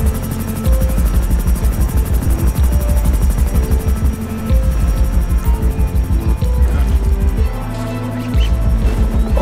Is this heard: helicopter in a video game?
yes